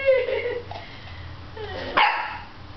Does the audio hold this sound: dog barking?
yes